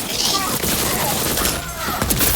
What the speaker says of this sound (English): Love that missile barrage